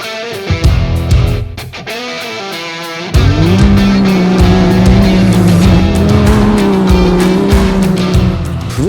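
SSV buggies race on a sand track at a cross event, engines revving hard and loud with shifting gear whine, a brief dip then a sustained roaring pass close by.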